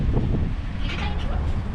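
Strong wind on a snowy downtown street in Paris, Ontario, buffeting the microphone with a dense, gusty roar throughout, a voice speaking faintly under it.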